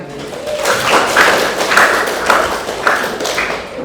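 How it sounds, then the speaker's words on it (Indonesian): A classroom of students claps together in a steady, fairly loud burst, with rhythmic pulses of clapping that continue evenly for a few seconds. "Oke, tepuk tangan."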